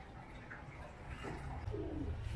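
A sick pet pigeon with one eye cold, kept isolated in a dim cage, gives soft low cooing calls close by, faint and brief against quiet room noise.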